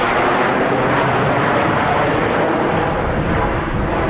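Eurofighter Typhoon FGR4 jet flying a downwind turn at RAF Coningsby, a loud, steady, broadband engine roar that stays constant across the whole clip.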